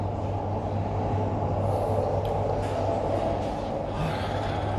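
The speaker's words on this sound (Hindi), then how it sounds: "ये ट्रेन आ रही हैं जा रही हैं।" Trains pass outside a station in Japan, heard from indoors as a steady low rumble and hum with faint higher rail noise, continuous and moderately loud.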